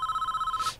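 Telephone in the Prison Architect game ringing, a rapid electronic trill pulsing steadily for under a second before cutting off.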